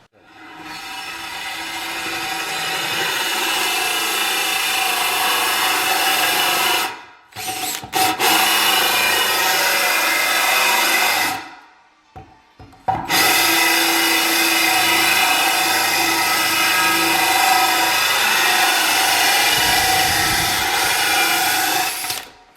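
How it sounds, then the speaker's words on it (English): A power drill bores a hole through a shower wall for a handheld shower water line during travertine tile installation, running as a loud, steady whine that cuts out briefly twice and then resumes. "we've been drilling hole for our handheld shower water line"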